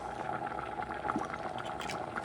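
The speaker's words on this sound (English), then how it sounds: "when it starts boiling like this, all you have to do is cover it" A pot of rice with smoked paprika and sausage bubbles at a steady boil, with continuous gurgling and popping of liquid, fairly close and moderately loud.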